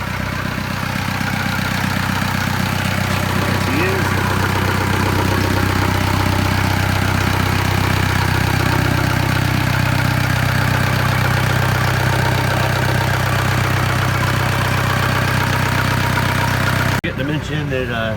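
Rebuilt marine engine with new exhaust idling at about 800 RPM aboard an Osprey boat, a steady close low rumble with a faint spitting of water, running continuously until it cuts off near the end.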